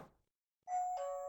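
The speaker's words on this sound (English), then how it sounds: "theoretically I should be able to give this a bit of a shock, and it should do the chime" A Hikvision AXPRO alarm panel chime set off by a shock sensor rings out alone after a brief tap, a clear two-tone ding-dong sustaining and fading slowly.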